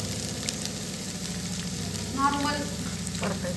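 Onion frying in a pan beside a caramelised kheer preparation, a steady close sizzle with stirring scrapes and a brief louder clatter near the end, no talk.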